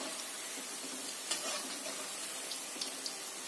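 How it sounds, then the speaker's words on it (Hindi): Namak para dough pieces frying in hot oil, a steady soft sizzle with faint crackles and light stirring, fairly quiet and continuous with no talk. "इसको हमें फ्राई कर रहे हैं।"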